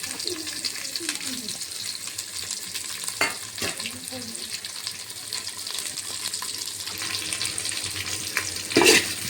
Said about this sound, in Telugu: ఆనియన్ వేసుకుంటున్నాను. ఆనియన్ అండ్ కరివేపాకు.